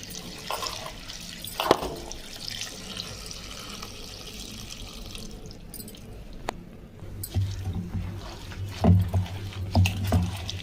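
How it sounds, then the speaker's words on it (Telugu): Spinach leaves are washed in water, with intermittent splashing, swishing and dripping, a few sharp drips early and heavier sloshing near the end, close and moderately loud with no speech. "పాలకూరని అయితే ఒకసారి మంచిగా కడుక్కుందాం"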